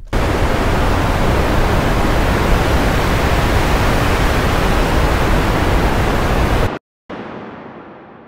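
Ocean waves synthesized from noise with volume automation on the highs and lows, a loud steady rushing hiss that cuts out abruptly near the end, then resumes as a softer, duller wash.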